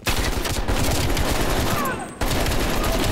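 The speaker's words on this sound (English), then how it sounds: "We are still under heavy fire." Heavy gunfire in Call of Duty Black Ops Cold War, dense rapid bursts of automatic fire pounding almost continuously and close, with a brief dip before the barrage resumes.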